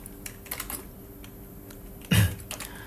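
Keystrokes on a computer keyboard come in a few soft, scattered taps, then one louder clustered burst near the end, close and quiet against a low room hum.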